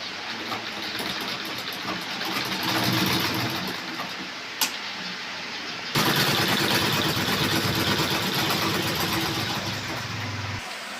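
A sewing machine runs continuously under an 89-year-old woman's hands, a dense steady mechanical whir with a brief click and a slight shift in pitch midway, close and fairly loud.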